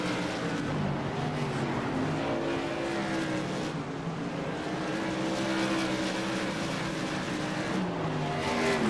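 Race cars run at Hickory Speedway, their engines droning and whining continuously and loudly as several cars circle the track together, with no talk heard.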